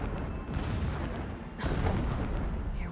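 Blasting explosions rumble in Horizon Zero Dawn, a dense, continuous roar of booms with a sharper detonation about halfway through, loud and close, with no talking.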